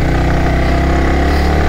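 Motorcycle engine running while riding on a road trip toward Pokhara, a loud, steady low drone with constant rumble and no clear revving changes.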